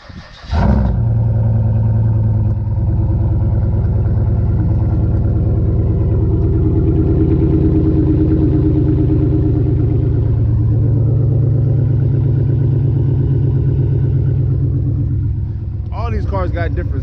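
A Chevrolet Monte Carlo SS with an LS4 5.3 V8 cold starts with a sudden loud catch, then settles into a deep, steady, rumbling exhaust idle that holds close and loud to the end.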